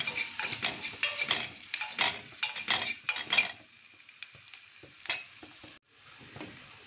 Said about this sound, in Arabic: البصلاية اتشوحت اهي شوية دبلت